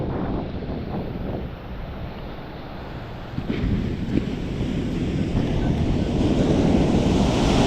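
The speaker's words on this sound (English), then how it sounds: "Oh, that's a big wave." Ocean waves breaking on a beach, a broad roaring wash building louder toward the end, with gusty wind buffeting the microphone and no voices.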